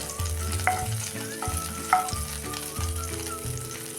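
Butter melting in a hot pan, crackling and sizzling close up with a steady low bubbling hiss, broken by faint spatters and a few soft clinks, no talking.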